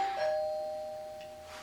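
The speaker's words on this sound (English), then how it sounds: "somebody is ringing my doorbell" A doorbell chime rings once, a steady sustained tone that slowly fades in a quiet home while a new smart display sits nearby.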